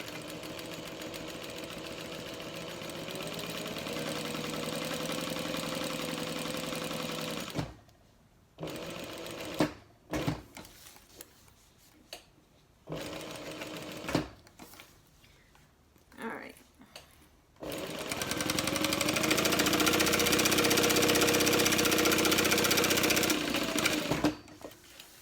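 Sewing machine running long steady stitching runs while hemming a tote bag about 1/8 inch from the edge, with a broken stretch of short bursts and backstitch stops in the middle, loud and close.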